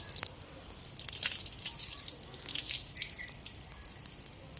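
Water splashes and trickles over a Labrador during a hot water bath, a steady running pour with drips, close and moderately quiet.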